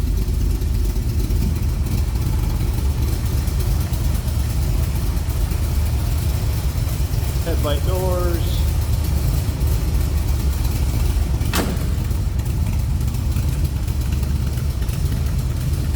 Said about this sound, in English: those side pipes are baffled on the inner part of that, so it's not just a straight pipe and crazy exhaust sound, just a nice little rumble